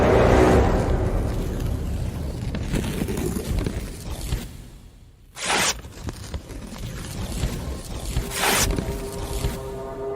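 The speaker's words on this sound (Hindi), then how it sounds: "ये कागज कौन फाड़ रहा है कमरे में?" Paper is torn somewhere in a room. Its raspy, ripping noise rises and falls over several seconds, with two short, louder tearing bursts standing out, and no talking.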